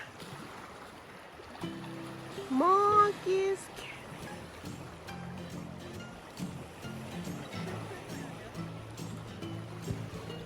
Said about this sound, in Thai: เสียงคลื่นซัดฝั่งนะคะ